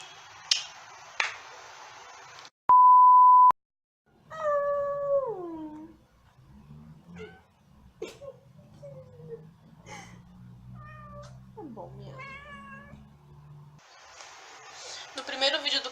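Two pet cats meow in a quiet room, several separate rising and falling calls spread across the middle of the stretch, with sharp clicks, a brief steady tone and louder rustling noise near the start and end.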